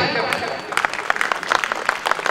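An audience at a poetry gathering breaks into applause after a short pause, with quick scattered claps that keep going while voices carry on.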